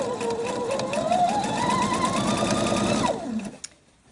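A sewing machine stitches through fabric at the placket opening, a fast close whirring rattle whose pitch climbs as it speeds up, then winds down and stops with a small click.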